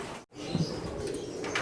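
An old-bird racing pigeon lands at its home loft after a PHA race released from San Isidro, Samar, with a brief flurry of wing flaps over a steady background hiss and a momentary dropout.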